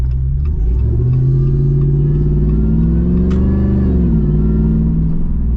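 A Jeep Wrangler 392 or Hellcat engine heard from inside the cabin in traffic, a loud, deep, aggressive drone that swells in a rev and then settles, with no talk.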